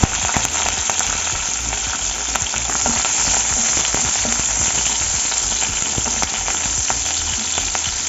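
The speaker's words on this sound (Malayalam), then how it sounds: "എണ്ണ ചൂടായി വരുമ്പോൾ ഫസ്റ്റ് നമുക്ക് പച്ചമുളകും നമ്മുടെ ഗാർലിക്കില്ലേ, വെളുത്തുള്ളി ചെറുതായിട്ട് അരിഞ്ഞത് കൂടി ഇട്ട് കൊടുക്കാം" Green chillies and finely chopped garlic sizzle in hot oil in a pan, a steady, loud, dense crackle that runs unbroken throughout with no voices.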